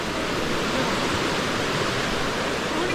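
Rushing water of Hebbe Falls near Chikkamagalur, a dense, steady roar of falling water that stays loud and unbroken throughout with no voices.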